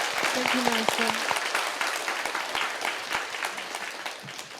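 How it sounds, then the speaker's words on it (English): An audience at a spiritual talk gives enthusiastic, dense applause, a loud continuous wash of many hands clapping, with a voice faintly heard beneath it. "And your enthusiastic clapping."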